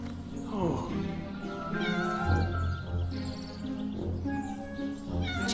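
A cat meows repeatedly in a film scene, several drawn-out, rising calls close to the microphone, with a person speaking softly over and between them.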